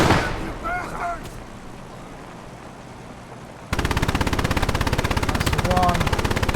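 A WWII battle scene in which a German Pak anti-tank gun and artillery fire on a tank: heavy booms and rumbling blasts give way to dense, rapid machine-gun fire, loud and close, with voices shouting over the din.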